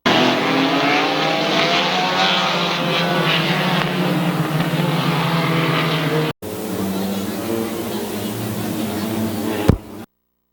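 Race cars roar steadily together through an eight-lap evening heat at Midvale Speedway, a loud sustained engine drone with a brief dip near the end, under an announcer's voice calling the field.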